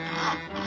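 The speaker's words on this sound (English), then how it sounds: "Isn't that your house Harry is sawing on" A single rasping saw stroke through a tree limb, a short rough scrape that swells and eases, heard up close without talk.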